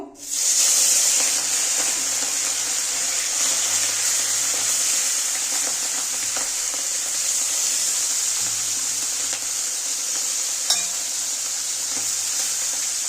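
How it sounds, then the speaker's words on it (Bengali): Small fish such as bele, tangra and puti frying in hot oil, a loud steady sizzle and hiss heard up close throughout, with a brief clink near the end. "দেখো তেলটা গরম হয়ে গেছে, এবার আমি মাছগুলো সব ভেজে নেব।"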